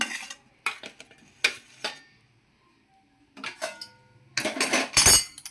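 A spoon presses masala stuffing into pressure-cooked bitter gourd pieces in a dish, sounding as sparse close clinks and scrapes in short bursts with quiet gaps between them and a denser flurry at the end.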